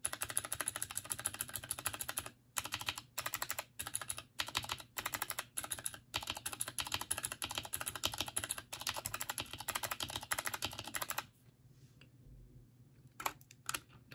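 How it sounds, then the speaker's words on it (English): Fingers type on a keyboard fitted with spring-lubed Cherry MX Blue and Kailh BOX click switches, giving a fast stream of close, crisp clicky keystrokes with brief gaps. The typing stops near the end, leaving a few faint taps. "On the left is a spring only lubed Cherry MX Blue, and the rest are Kailh box clicks"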